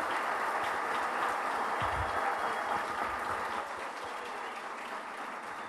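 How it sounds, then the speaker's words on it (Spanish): Applause from a gastronomy lecture audience, a steady wash of many hands clapping at a distance, fading slightly toward the end with no voices over it. "Lo despedimos con fuertes aplausos"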